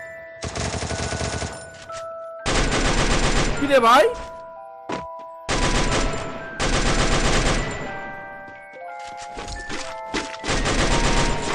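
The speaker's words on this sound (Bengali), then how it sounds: "একটা এনিমিকে দেখে কিন্তু উড়াদুরা ফায়ার করা শুরু করে" Gunfire in the Free Fire video game comes in long rapid automatic bursts separated by short pauses, loud and close, with a few single thuds and effect tones and a voice speaking briefly between shots.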